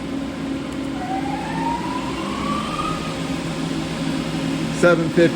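A Mori Seiki SL403 CNC lathe spindle spins up to 750 RPM, a steady machine hum under which a rising whine sweeps upward over a few seconds, with a couple of brief clanks near the end.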